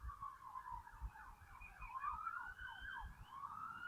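A highway patrol siren rises and falls in pitch, sounding distant and steady, with a low rumble of background noise underneath.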